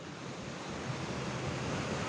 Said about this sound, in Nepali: मध्यपुर नगरपालिका र सूर्यविनायक नगरपालिका बीचबाट बग्ने यो हनुमन्ते खोला हो।